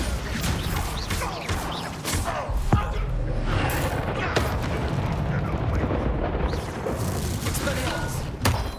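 The Bombarda spell explodes in Hogwarts Legacy, heavy booming blasts and thuds layered with crashing debris in a dense, loud game mix, with character voices speaking over it.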